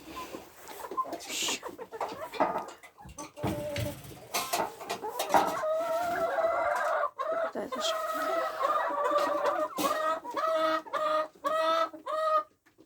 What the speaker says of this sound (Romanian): Și aici găinile.